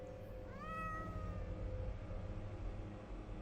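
A cat named Herbert in the video game The Excavation of Hob's Barrow gives a single short, rising meow over a low rumbling ambient background.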